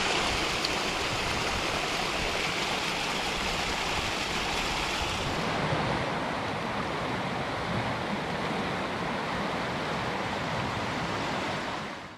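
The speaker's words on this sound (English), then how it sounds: "Little mountain streams." A little mountain stream in the Jura in France rushes steadily and close by, a dense, unbroken wash of flowing water that keeps an even level for the whole stretch, with no voices heard.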